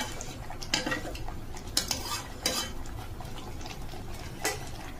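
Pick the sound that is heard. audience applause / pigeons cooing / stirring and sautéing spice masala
stirring and sautéing spice masala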